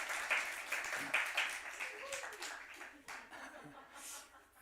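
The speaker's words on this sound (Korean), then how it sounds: "여러분 저에게도 한번 박수 한번 쳐주면 좋을 것 같아요" A church congregation claps for its pastor in a brief scattered burst mixed with light laughter, then fades away, with voices talking softly underneath.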